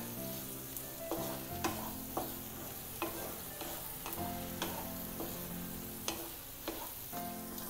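Cornflour slurry stirred into chilli mushroom in a hot pan, a low sizzle punctuated by repeated rhythmic scrapes and knocks of the spoon roughly every half second to second, close and fairly quiet.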